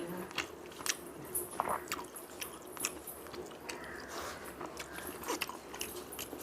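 Close, wet chewing and biting of a meal of stingray curry with parboiled rice and dal eaten by hand at home, soft squishy mouth sounds repeating irregularly with small clinks, no talking.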